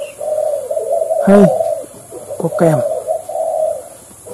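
A decoy dove kept for trapping gives two close, loud, deep cooing phrases, each a throaty rolling coo, while someone talks nearby.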